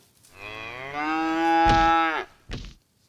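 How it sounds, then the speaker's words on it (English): A cow moos in one long, loud, drawn-out call, followed by a short second grunt, close by and with no other sounds around it. "Now all the cows are gonna die."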